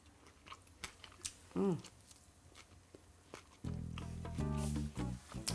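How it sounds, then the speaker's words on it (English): Crisp crunching from someone eating fried whitebait sprinkled with lemon and shredded cabbage: a few close, sharp bites and chews, with a brief hum of voice and a steady musical tone rising beneath the later chewing. "Hear that crunch?"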